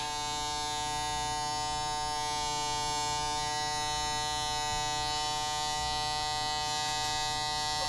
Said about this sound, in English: we are putting 500K diff lube in there and got the vacuum going